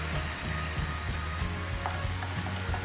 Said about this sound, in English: Now add the water